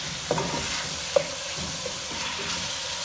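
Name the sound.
chopped tomatoes added to sizzling pan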